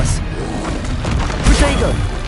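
Spell blasts in Hogwarts Legacy, including the fiery Confringo and other combat spells, boom and crack through a dense, busy mix with a heavier thump midway, under spoken spell incantations.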